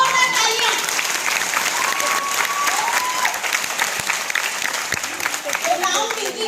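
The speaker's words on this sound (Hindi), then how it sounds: "जोरदार तालियां" Loud, dense applause from a large audience filling the whole stretch, with crowd noise and voices mixed in.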